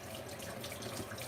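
Warm tap water runs steadily while a makeup brush is rinsed under it, making a faint, even rushing splash with no voices.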